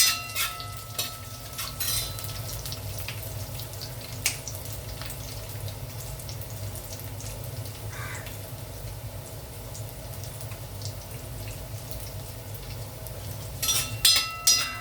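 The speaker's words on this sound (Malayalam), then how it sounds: "ചെറുതായിട്ട് മുറിച്ച് വറ്റൽമുളക് ഇട്ട് കൊടുക്കാം. എന്നിട്ട് ഇത് ഇളക്കി കൊടുക്കാം." Dried red chillies fry in a pan with a faint, steady sizzle while a utensil scrapes and clinks now and then, with a cluster of sharper clatters near the end, close but quiet and without speech.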